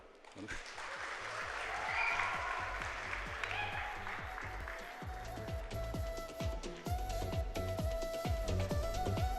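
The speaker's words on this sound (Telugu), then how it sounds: "ఎవరో తప్పట్లు కొట్టండి" An audience claps steadily at a Telugu stage event, a dense patter of hand claps that swells and holds, with a voice talking over it and faint music underneath.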